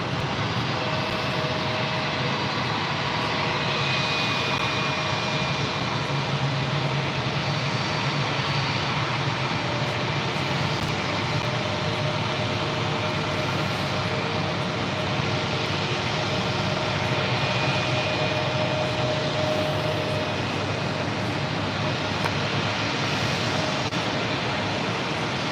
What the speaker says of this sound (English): the JetBlue for Good A320 now pulling into gate 4 at Terminal 5